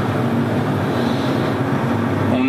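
A Volvo FH 540 truck with a D13 engine runs with a steady low mechanical drone and continuous rumble, close and loud with no break.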